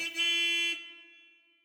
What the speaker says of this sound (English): The car's horn broke the silence of the twilight